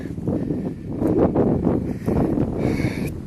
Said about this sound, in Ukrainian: Так не знаю, що буде чути, бо сильний вітер, дуже сильний